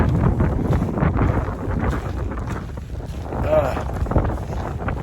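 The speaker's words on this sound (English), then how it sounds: "The wind's blowing so hard right now." Strong wind buffets the microphone on an Appalachian mountain trail, a steady low roar with gusty swells throughout.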